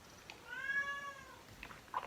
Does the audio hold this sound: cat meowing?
yes